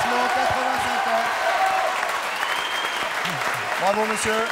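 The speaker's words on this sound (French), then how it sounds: "Monsieur Klein, applaudissements" Studio audience at a French television show applauding in a steady, dense wash of clapping, with someone talking over it throughout.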